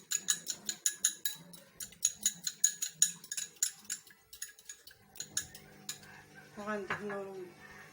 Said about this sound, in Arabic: معلقه ديال الحليب ونص فانيليا اللي كنا خلينا ونخلطوه مزيان.